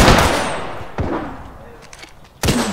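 Gunfire in the Apex Legends shooter game on PC, with sharp bursts at the start, a shot near one second and a loud burst near the end, over game ambience and team chatter.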